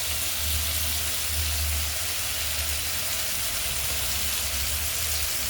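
Tomatoes seasoned with turmeric, salt and chili powder fry in a pan for a breakfast dish, giving a steady, close sizzle with a soft bubbling hiss that stays even throughout, with no talking.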